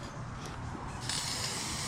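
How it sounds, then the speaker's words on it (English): A close 3M aerosol can hisses in short spurts, then a longer sustained spray in the second half, under a vehicle during a 4L60E transmission filter change. "just spray it down,"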